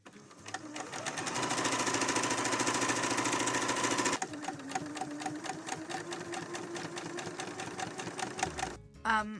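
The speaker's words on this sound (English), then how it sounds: "I top stitched over that edge so it lies flat" Sewing machine topstitching the edge of a sleeveless coat, running fast and steady with rapid rhythmic needle clatter, then briefly pausing before a second, slightly slower burst that stops near the end with a clunk.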